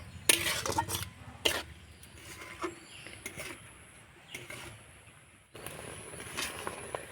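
Spatula stirring coconut chira (flattened rice) in sugar syrup in a pan, giving intermittent scraping and clinking strokes with brief louder bursts, fairly close, with no talk.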